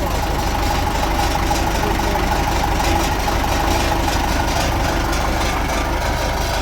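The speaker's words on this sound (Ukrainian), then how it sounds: "Вихлопна брянчить трошки" An MTZ 82 tractor engine idling with a slightly rattling exhaust, a loud, steady, close mechanical drone with a fast, rough pulse running throughout, and no speech.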